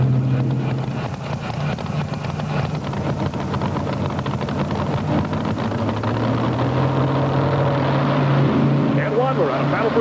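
A 1990 Chevrolet Silverado pulling truck with a 650 cubic inch motor drones loud and continuous at a pulling event in Rock Springs, Wyoming, with wind buffeting the microphone and an announcer talking over it.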